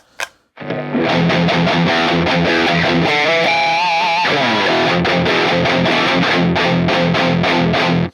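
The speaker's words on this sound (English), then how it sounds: "And you scoop the mids, you get that nice metal tone that everyone loves." High-gain distorted electric guitar through an amp set with scooped mids for a metal tone, loud riffing with a brief sustained bend in the middle, then fast repeated palm-muted chords to the end.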